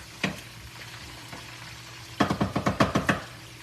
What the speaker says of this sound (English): we're just gonna saute them a few minutes till they get a little soft